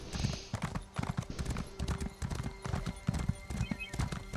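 Horse hooves clip-clop at a steady riding pace in The Elder Scrolls Online, a loud, busy run of hoofbeats with a brief whinny at the start.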